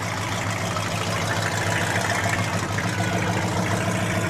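LS V8 engine idling in a body-swapped 1949 Ford on a BMW chassis, a steady low rumble held at constant level with no revving, heard close and alone.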